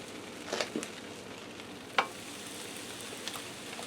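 Buttered sourdough bread frying in a pan for a corned beef melt sandwich, a soft steady sizzle with a few brief crackles and clicks of handling.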